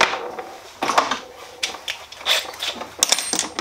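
Several sharp metallic taps and clinks, irregularly spaced, from a center punch being struck against metal to mark a hole.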